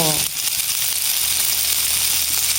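Soy sauce hits a hot pan of sautéed chicken feet for adobo, giving a loud, steady frying sizzle that hisses without a break from start to finish, with no talking.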